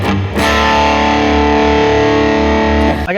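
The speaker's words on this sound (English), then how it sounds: "so it's a more overdriven tone off the pedal I got, using this overdrive Noble pedal" Electric guitar through an overdrive Noble pedal, volume pot rolled back slightly, played as one sustained overdriven chord that rings out for about three seconds after a quick strum, loud and alone.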